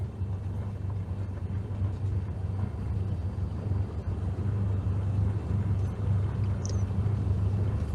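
Cessna single-engine plane taxiing at Allegheny County airport in Pittsburgh inside a flight simulator: a continuous low engine drone, even and unbroken, with no voices over it.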